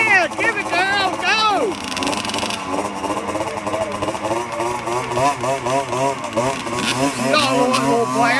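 Several dirt bike engines rev and idle at a motocross race start, a dense, rising and falling two-stroke buzz with blipping throttles, under excited shouting from people nearby.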